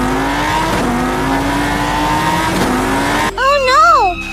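A car engine drives and accelerates, its pitch climbing steadily as it revs up and stays close and loud. In the last second a short, high, wavering cry cuts in over it.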